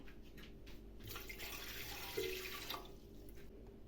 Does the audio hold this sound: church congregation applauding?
no